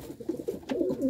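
A pigeon held in someone's hands gives soft, low cooing murmurs, a few short throaty coos close by in an otherwise quiet space.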